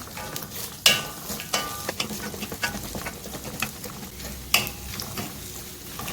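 Shallots, garlic and green chillies sauté in a pan for pappada curry, giving a steady close sizzle with scraping stir strokes and a few sharp clinks of a spoon against the pan.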